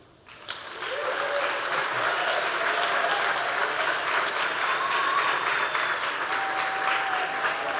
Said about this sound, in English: How about another big round of applause for Alicia, ladies and gentlemen?